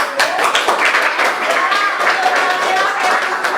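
Classroom applause for a student group: students clap together in a lively, continuous burst of overlapping hand claps, fairly loud and close, lasting the full few seconds.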